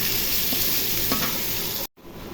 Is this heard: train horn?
no